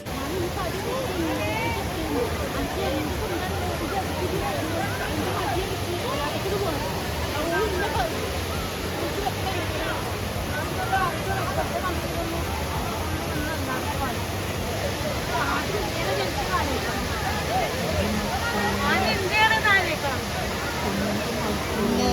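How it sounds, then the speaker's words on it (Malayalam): Loud, continuous rushing water mixed with a constant babble of many voices, a busy crowd beside a waterfall in Wayanad. "വെള്ളത്തിൻ്റെ സൗണ്ടും ആളുകളുടെ ബഹളം കൊണ്ട് അതിൻ്റെ ഇടയിൽ ഒരാൾ വീണാൽ പോലും ഒച്ച കേൾക്കില്ല"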